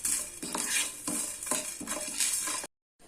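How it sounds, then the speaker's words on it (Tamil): A spoon scrapes rhythmically around a pan of cumin, pepper, fenugreek and two dry chillies dry-roasting over medium flame, about six close strokes, then a short silence. "அதுக்கப்புறம் 2 காஞ்ச மிளகாய். இப்போ இதை நான் மீடியம் ஃப்ளேமில் வச்சு வறுத்து எடுத்துக்கிறேன்."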